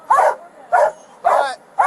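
A police dog at a felony traffic stop barks in four evenly spaced, loud, close woofs, with no talk over them.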